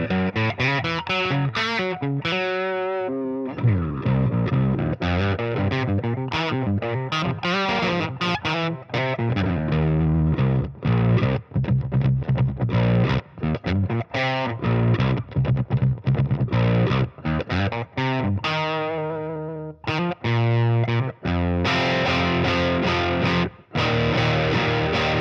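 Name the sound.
distorted baritone electric guitar through Neural DSP Nano Cortex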